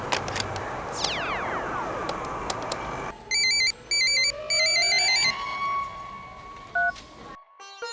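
An electronic telephone ring sounds in repeated beeping bursts, fairly faint, after a stretch of swooping whistle-like tones, ending in a brief silence.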